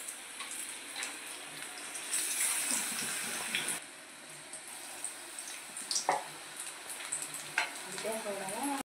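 Mirchi bajji, gram-flour-battered chili fritters, deep fry in hot oil with a low, even bubbling hiss that swells and fades, plus occasional light clatters nearby.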